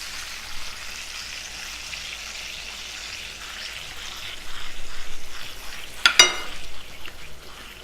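Butter melts in a pan with Frank's Red Hot for buffalo chicken sandwiches, giving a steady soft sizzle that swells louder toward the end and is broken by a sharp clatter or crackle.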